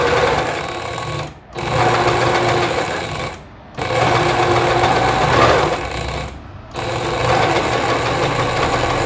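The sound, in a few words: sewing machine stitching skirt lining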